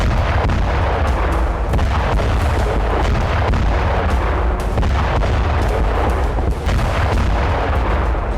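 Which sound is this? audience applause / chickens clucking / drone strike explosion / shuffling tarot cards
drone strike explosion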